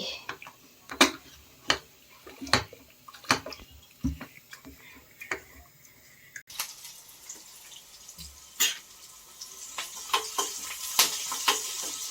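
Spices are tempered for a leafy greens curry: scattered clinks and scrapes of stirring in a pan, then a broad hiss of sizzling oil that swells and continues, close by.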